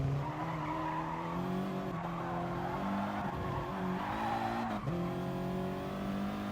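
McLaren 650 race car in a racing video game, its engine droning steadily with rising and dropping pitch through gear changes and tires squealing, loud and continuous throughout.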